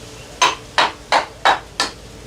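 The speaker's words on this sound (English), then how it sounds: "So we just tap on the, you can actually hear it cracking." A hammer taps a masonry stone block to crack it, giving five sharp, evenly spaced knocks that sound close and clear against a quiet background.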